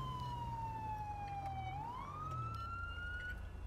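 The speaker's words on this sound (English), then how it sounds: "Why would you pull out when you hear sirens?" Police car siren in GTA 5 with the LSPDFR mod, a loud continuous wail sweeping slowly down and back up over steady low engine rumble, close and unbroken throughout.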